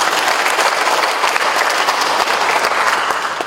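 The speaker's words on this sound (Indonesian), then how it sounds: "Tepuk tangan dulu." A large audience at an official inauguration and oath-taking ceremony for senior provincial officials breaks into loud, dense applause, a continuous wash of many hands clapping close by for several seconds without talk.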